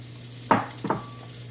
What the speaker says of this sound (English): you're going to go ahead and stir up these onions until all of the bits come off from the bottom